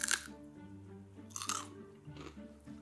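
Crunchy popcorn coated in a Baileys-flavoured topping being chewed up close, with a few sharp crunching bites separated by brief pauses and softer chewing between.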